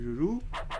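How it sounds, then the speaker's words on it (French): A dog barks twice in quick succession in the background, two short muffled bursts that follow a voice. "Ah putain, c'était un chien ce bruit."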